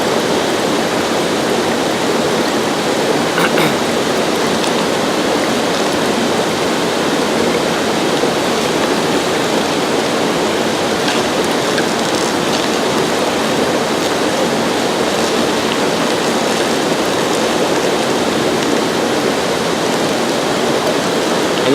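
Water pours steadily through a Katadyn BeFree water filter, a continuous loud rushing hiss with no breaks and no talking.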